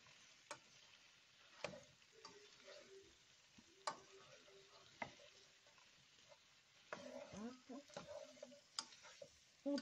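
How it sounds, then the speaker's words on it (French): Stirring ratatouille with courgettes in a pot: intermittent scraping and knocking strokes of a spoon against the pot, with soft sizzling underneath, fairly quiet and close. "On touille, on touille."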